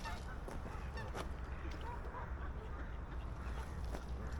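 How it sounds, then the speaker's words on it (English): Ducks come ashore at a small landing jetty on Scarborough Mere, giving faint, scattered honks and quacks against steady outdoor background noise. "Ducks coming ashore"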